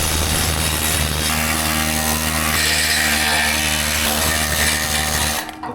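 An air-powered rotary wire brush runs on a weak compressor while cleaning rusty Land Rover parts. It gives a loud, continuous whirring and scraping that holds steady for several seconds, then cuts off abruptly at the end.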